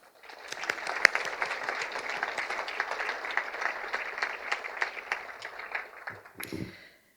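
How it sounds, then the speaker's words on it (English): Audience applause for the faculty and staff at the Michigan College of Optometry white coat ceremony, a steady wash of many clapping hands filling the hall for about six seconds before tapering off. "Let's give them all a round of applause"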